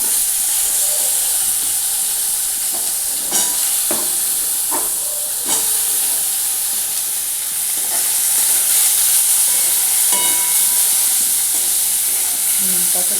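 Eggplant pieces sizzle in hot oil in a pan, a loud steady frying hiss with occasional sharp crackles and stirring clinks throughout.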